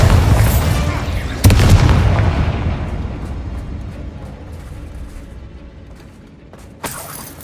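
A Bombarda explosion spell from Hogwarts Legacy lands with a loud, heavy boom and a long rumbling decay, and a second sharp blast follows near the end.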